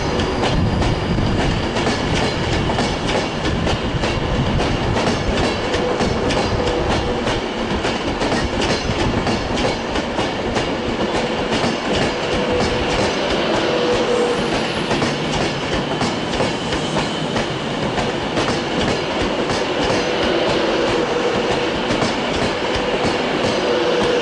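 Virgin Trains Class 390 number 045, the rainbow-liveried Virgin Pride, pulls out of Manchester Piccadilly bound for London Euston, a steady rumbling roll with rhythmic wheel clatter and rail hiss running loud and unbroken throughout.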